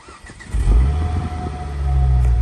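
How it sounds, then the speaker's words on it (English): A Ford Focus ST five-cylinder engine on its standard exhaust, a low, steady rumbling idle that swells after a brief quiet start, then holds a deep, even drone close by. "I love the sound of these 5-cylinder engines."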